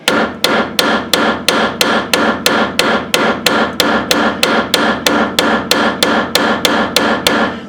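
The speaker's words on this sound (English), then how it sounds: "I have been hammering again on the bolt here at the end just with my brass hammer" A brass hammer strikes a bolt on a 1981 Alfa Romeo Spider Veloce in a steady series of about twenty sharp, loud metallic blows at a regular quick rhythm, with no talking.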